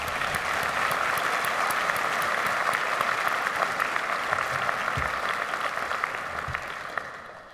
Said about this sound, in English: I think we should recognize their part in all of this with a big round of applause for